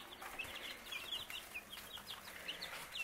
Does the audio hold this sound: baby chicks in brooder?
yes